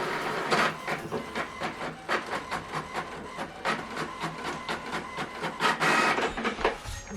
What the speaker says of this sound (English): So we are printing double-sided, black and white, or monochrome if you like.